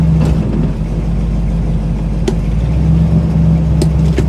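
A cold Buick engine runs steadily after startup, a loud, close idle drone with a constant low hum and a few faint clicks, no talking over it.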